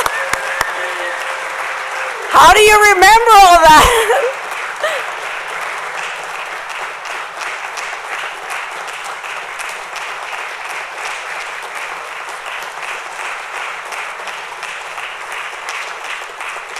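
Crowd applauding a graduating police academy class at a badge pinning ceremony, steady clapping running throughout, with a brief burst of loud electronic noise near the start and a short spoken question over it.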